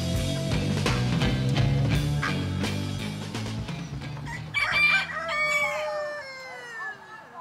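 At a roadside swap meet in rural Kansas, chickens cluck softly and then a rooster crows clearly in the middle distance, following a stretch of background music, with a few quiet voices nearby.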